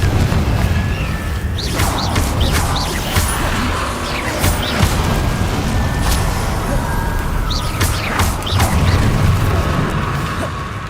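Rapid spell combat in Hogwarts Legacy, with Confringo explosive casts mixed among other spells, brings repeated crashing booms and sharp bursts over a dense, loud battle din that never lets up.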